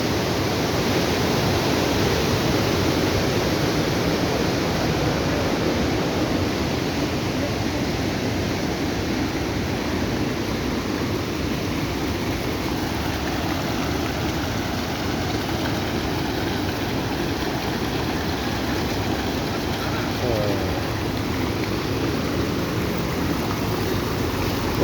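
A fast, dangerous river at Astak Nala in Pakistan rushes past continuously, a loud, dense, unbroken roar of water heard close by with no talking.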